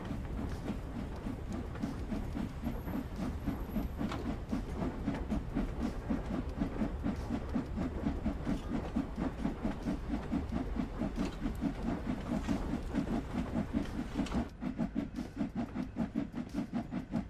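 In Train Sim World 3, a train on the Liverpool to Crewe route starts moving after its regulator is opened, a steady, fairly loud mechanical rumble with rapid rhythmic chuffing pulses and a hiss running through, easing off near the end.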